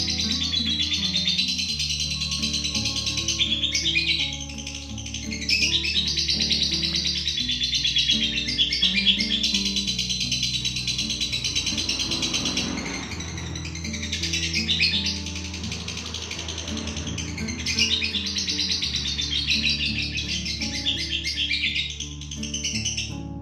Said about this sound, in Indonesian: Seperti inilah video lovebirdnya.